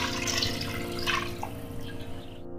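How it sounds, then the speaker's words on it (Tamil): Water pours steadily into a large pot of rice for a 1 kg batch of homemade chicken biryani, a continuous close splashing and trickling stream with no talk over it. "இந்த ஸ்டேஜ்ல தண்ணியை சேர்த்துக்கலாம்."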